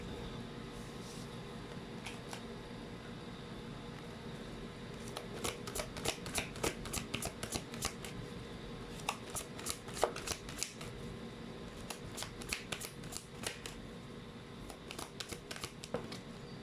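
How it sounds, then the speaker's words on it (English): Tarot cards shuffled by hand in a card-reading session, a long run of quick riffling slaps and flutters, close and steady, with a quiet background hum and no voices. "let's try to pull out more cards"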